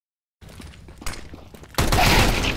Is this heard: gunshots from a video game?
yes